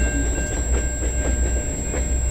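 Freight train L509 rolling through London, Ontario on the Dundas Subdivision near the ECR terminus, a steady loud rumble of railcars with repeated clickety-clack wheel beats over the rails, continuous and close.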